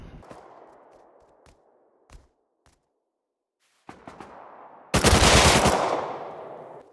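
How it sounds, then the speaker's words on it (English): AK rifle fire in the game Rust, single tapped shots spaced across several seconds followed by a loud, sustained close-range burst that fades out, with echoing tails after each shot. "Bro, tap fire an AK."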